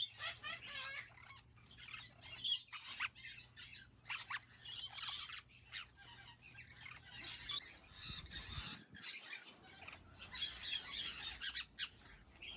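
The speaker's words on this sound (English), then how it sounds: "These right here are my one and only pair of Dusky Conures." A pair of Dusky Conures gives repeated sharp squawks and chattering calls in an aviary, close and irregular, with brief gaps between bursts and a low background hum.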